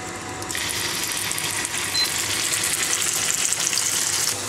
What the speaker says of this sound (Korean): 계란 후라이를 서브로 하나 더 하고 있고